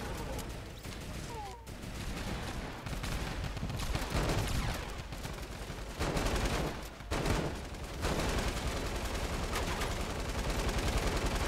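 Video game gunfire in a Beach Assault battle mode: dense, continuous volleys of shots and bursts with louder bangs, fairly faint in the mix and sustained throughout.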